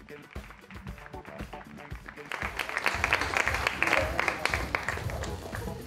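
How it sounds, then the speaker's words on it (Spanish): A gala crowd greets an organizer with applause that swells in after a couple of seconds, a fairly faint mass of clapping mixed with voices and crowd noise. "Un aplauso para él"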